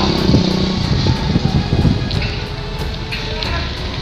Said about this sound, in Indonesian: Ada motor, ya?